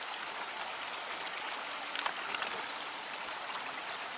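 Water flows steadily at a site of old ruins, a constant hiss of trickling, rain-like splashing with a few brief louder drips, moderately faint, with no talk.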